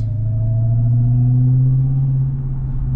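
A 2022 Dodge Charger SRT Hellcat pulls away with a steady, loud low engine rumble and a slowly rising tone, close and continuous, with no talking.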